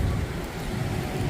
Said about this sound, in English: But as suspected, the wind and rain came in.